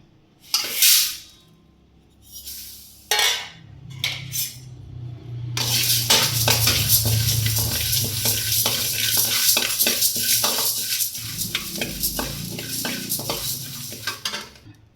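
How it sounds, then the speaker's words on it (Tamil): Chana dal, toor dal, fenugreek and mustard seeds dry roast in a pan, with a few sharp clinks of utensils followed by continuous rattling stirring and light crackle, close and moderately loud. "கடலப்பருப்பு கொஞ்சம், துவரப்பருப்பு கொஞ்சம், வெந்தயம், கடுகு எல்லாம் போட்டு ஒரு வறுத்துக்கலாம்"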